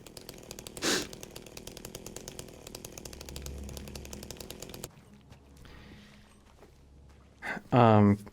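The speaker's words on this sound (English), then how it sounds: "Do you want to know about something interesting you can do with a chainsaw right now?" A chainsaw revs in the video game Silent Hill 2 Remake, a loud buzzing drone with a sharp burst early on that cuts off midway. A person gasps and sighs, and a voice speaks loudly near the end.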